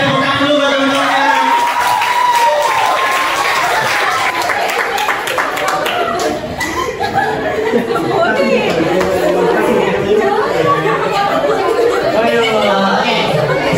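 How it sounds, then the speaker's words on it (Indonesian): Classroom of students clapping for classmates, a burst of applause mixed with lively chatter, some cheering and chuckles throughout, with voices talking over it the whole time. "Oke, tepuk tangan dulu buat teman-teman."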